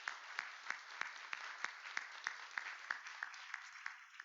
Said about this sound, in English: could we get a round of applause for both the candidates in District 7?